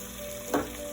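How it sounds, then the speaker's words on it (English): Coconut milk poured into a pan of frying Malaysian sambal tofu gives one sudden, brief hiss and splash over a steady low sizzle. "finally I'm adding coconut milk"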